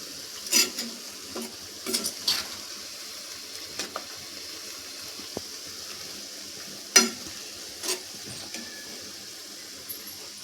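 Onion frying in homemade hair oil heated on a gas stove, with soft sizzling under scattered clinks and stirring knocks from a spoon against the pan, close and fairly quiet, with no voices.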